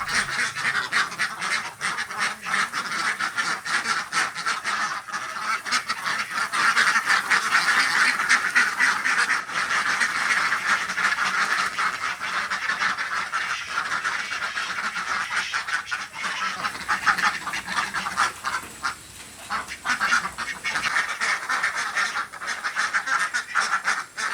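A large flock of laying ducks on a village farm quacks constantly, a dense, loud chorus of overlapping calls close by throughout.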